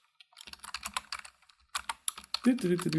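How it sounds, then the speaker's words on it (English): Close computer keyboard typing in quick irregular clusters of clicks, pausing briefly before resuming, with a voice starting to speak near the end. "Typing."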